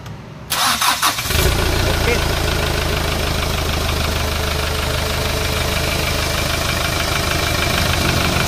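A Hyundai Starex's D4CB diesel engine cranks briefly and fires, then settles into a loud, steady, clattering idle close by.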